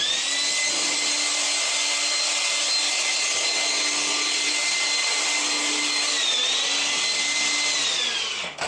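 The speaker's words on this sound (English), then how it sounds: "He covets my tiny blower" A small handheld cordless blower runs steadily close by, a loud continuous whirring whine that barely changes pitch and cuts off at the very end.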